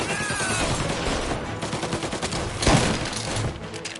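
Sustained gunfire in Mafia: Definitive Edition, a loud, dense barrage of rapid overlapping shots with a sharper burst near the middle, continuous throughout.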